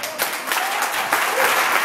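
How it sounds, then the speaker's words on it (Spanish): A church congregation claps for Jesus during a sermon, giving brisk, loud applause that swells and continues throughout with no clear speech over it. "Dale un aplauso a Jesús"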